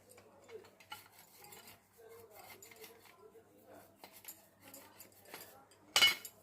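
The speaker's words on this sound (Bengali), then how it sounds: "প্রচুর পরিশ্রম নারকেল ছাড়াতে।" Husking a large coconut by hand in hot sun: faint scraping and rasping of fibrous husk being worked and pulled, in uneven bursts, ending with a louder sharp crack, while someone talks quietly.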